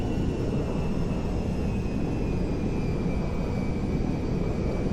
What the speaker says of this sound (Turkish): Boeing 747 dünyanın en büyük tanker uçağı